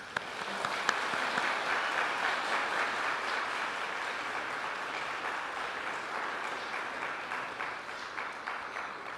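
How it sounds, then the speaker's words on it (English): Church congregation applauding during a Sunday service, an even, moderately distant patter of many hands clapping steadily throughout with no talk over it. "So let's give everyone a round of applause"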